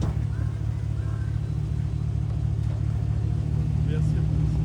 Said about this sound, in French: En tout cas c'est un beau moteur. Ça sent au moins le V8.